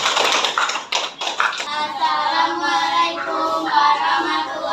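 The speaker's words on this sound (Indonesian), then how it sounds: "Kita beri tepuk tangan dulu untuk kelompok visual." Crowd applause for a student group presentation at a teacher-training assessment in Jakarta, rapid overlapping claps, loud and close, swelling then fading as a voice begins over the tail end.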